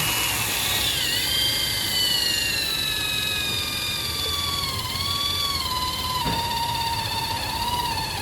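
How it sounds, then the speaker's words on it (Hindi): An electric drill bores steadily through metal while installing a hydraulic press pilot check valve, a continuous loud grinding whine whose pitch slowly drops under load, with one sharp knock near the end. "ड्रिल का लोड एकदम ज़्यादा हो गया ना, तो मतलब कटिंग कंप्लीट ही होने वाली है।"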